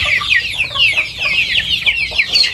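Free-range Indonesian village chickens (ayam kampung) cluck and peep continuously at close range, a busy overlapping chorus of short high calls with no talking.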